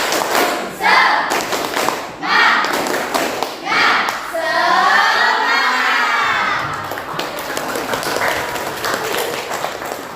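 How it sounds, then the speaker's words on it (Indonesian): A class of students doing a rhythmic Indonesian spirit clap (tepuk semangat) in a classroom lesson: several quick bursts of patterned clapping and thumps, with children's voices shouting and chanting along. "kita tepuk semangat terlebih dahulu"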